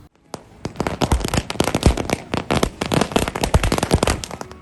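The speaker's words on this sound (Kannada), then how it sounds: "ಭಟ್ಕಳ ಬಿಜೆಪಿ ಮುಖಂಡರು, ಕಾರ್ಯಕರ್ತರು ಪಟಾಕಿ ಸಿಡಿಸಿ ಸಂಭ್ರಮ ಆಚರಿಸಿದರು" Firecrackers set off by BJP party workers at a street celebration in Bhatkal, a dense rapid chain of sharp cracking bursts and pops that starts abruptly and keeps crackling loudly and unevenly until the end.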